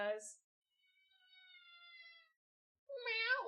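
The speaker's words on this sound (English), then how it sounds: "that was my cat." A house cat meows near the microphone, one short call at the start and a longer rising meow at the end, with a faint tonal sound between them.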